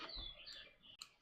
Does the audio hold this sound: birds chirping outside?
yes